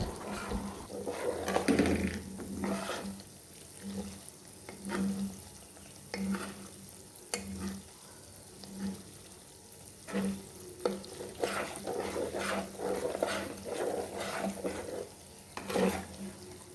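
Malai frying in a pan as it turns into golden ghee, a soft continuous sizzle and bubbling with intermittent scraping stirs throughout, close and low in level, with no talk.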